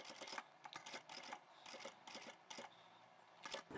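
A sewing machine stitches the edge of a fabric pouch in short, quiet bursts separated by pauses, close and faint, with a louder bump at the very end.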